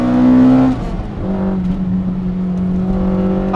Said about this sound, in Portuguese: Este som da admissão, para mim, já é... Pá, isto está fabuloso!